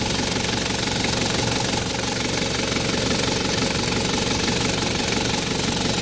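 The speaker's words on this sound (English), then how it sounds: "This is a 1 kz engine." A Toyota Hilux Surf's 1KZ turbo diesel engine with intercooler, running steadily at close range, a dense continuous mechanical rumble with diesel knock that holds even for the whole stretch, no voices over it.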